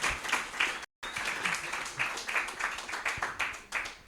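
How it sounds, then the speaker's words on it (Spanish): A conference audience at a panel discussion claps in a dense, steady round of applause, moderately distant, with a brief dropout early on. "Un aplauso también."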